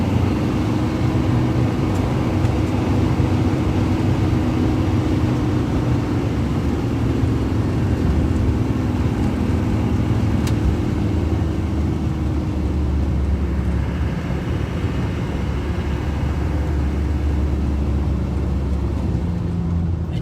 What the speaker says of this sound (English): You see how I drive it and how it goes. It's a full-time four-wheel drive.